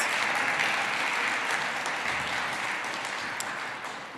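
Audience applause at a city council Black History Month celebration in Albany after a performance, a full, steady burst of clapping from a crowd that tapers gradually over a few seconds.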